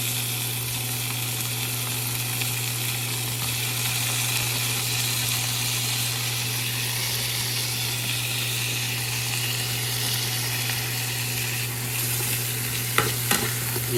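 Tomatoes stirred and frying in a pan give a continuous loud sizzle with scraping and stirring, plus a steady low hum throughout and a couple of brief clanks near the end.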